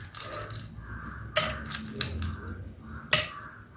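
Ice cubes clink into a glass for a chilled beetroot drink, several sharp separate hits with a soft rattle between them, close and fairly quiet.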